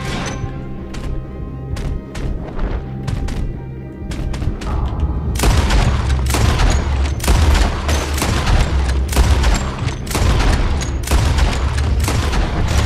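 Rapid gunfire from a Red Dead Redemption 2 shootout, scattered sharp shots at first, then dense overlapping volleys with booming thuds and crashes, loud and close throughout.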